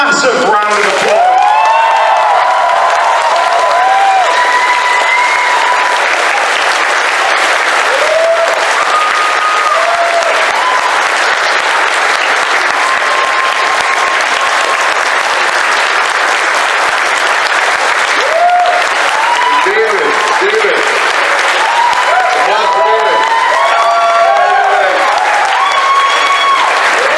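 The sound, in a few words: audience applause for panel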